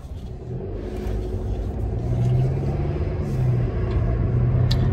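A car pulling out of a driveway, low engine rumble rising gently as it moves off, heard from inside the vehicle, steady and fairly close with no talk.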